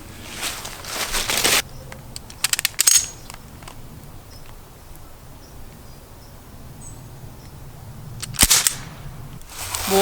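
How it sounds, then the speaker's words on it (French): Air rifle firing pellets at a paper target on an outdoor range: a few sharp, brief shots and clicks stand out against quiet background with insects, including one clear crack near the end. "Deuxième tir."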